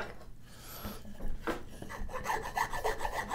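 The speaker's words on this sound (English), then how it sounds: "this is just a series of different files, finer files. And coming in and cleaning them out." Fine files rasp while cleaning out a wooden grooving plane made from firewood and a chisel, giving close, quiet repeated rubbing strokes that build into a quicker rhythmic scraping toward the end.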